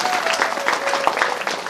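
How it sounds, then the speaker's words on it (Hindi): Audience applause at a live Shrimad Bhagavat Katha religious discourse, a short dense burst of many hands clapping together, loud and steady throughout. "तो बड़जोरदार उनको भी आशीर्वाद दे ताली के माध्यम से।"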